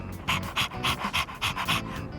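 A dog in the video game Persona 3 Reload pants in quick, regular bursts, close and clear, around eight breaths in two seconds with no talking over it.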